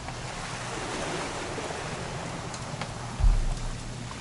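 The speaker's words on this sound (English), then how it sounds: "It's gonna rain the whole weekend," Steady, soft wash of rain in the video game What Remains of Edith Finch, continuous and even throughout, with one brief low thump near the end.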